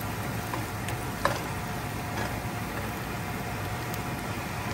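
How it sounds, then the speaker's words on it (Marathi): Fried onion being mixed into egg korma gravy in a pan, giving a soft continuous sizzle with a few faint scrapes of a spoon and one brief knock, close but quiet, no talk. "अशा प्रकारे आपल्याला हा कांदा याच्यामध्ये ॲड करून हा चांगला व्यवस्थित मिक्स करून घ्यायचा आहे"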